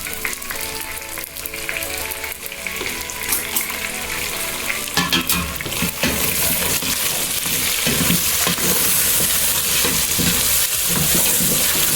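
Onions fry in a pan with a steady crackling sizzle that swells louder midway and keeps going as they are stirred, close up and with no talk, while crispy fried pork is being cooked.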